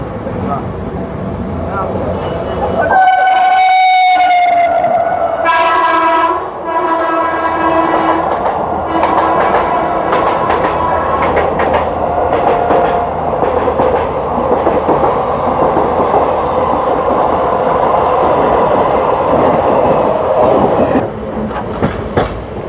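A long-distance passenger train runs on the rails between Bardhaman and Durgapur at night, its horn blaring loudly at first, then a steady rumble and rhythmic clatter of the wheels carrying on throughout.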